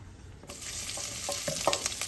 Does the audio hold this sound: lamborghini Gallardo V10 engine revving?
no